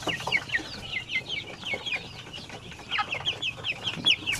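Several Shamo rooster chickens cluck in short irregular bursts, close and fairly loud, with occasional higher squawks over a quiet farmyard background.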